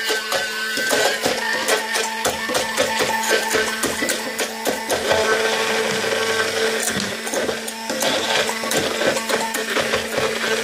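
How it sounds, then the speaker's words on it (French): An immersion blender whirs steadily and loudly while oil is added bit by bit to a homemade vinaigrette, a continuous motor drone with rattling, clattering texture and no talking. "on va mixer avec le mixeur plongeant et on va rajouter petit à petit de l'huile"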